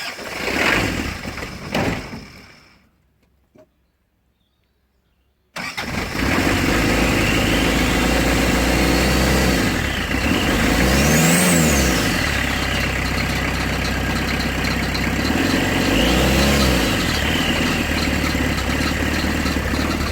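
Land Rover 90 engine running with the exhaust puffing, a steady close rumble that starts after a few seconds of near silence and holds loud, with faint rising and falling whine in places.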